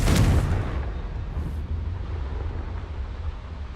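A Confringo blasting spell explodes in Hogwarts Legacy with a loud, sharp burst that fades into a rumbling tail and a lingering low roar.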